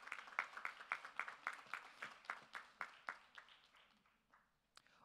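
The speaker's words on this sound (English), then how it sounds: "A round of applause." Applause from a crowd at a college graduation ceremony, a burst of many hands clapping that gradually thins and fades out over several seconds, heard fairly distant and alone.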